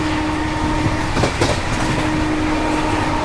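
A passenger train running slowly gives a steady loud rumble with a faint hum and occasional clicks, with no clear rhythm of wheels on the joints.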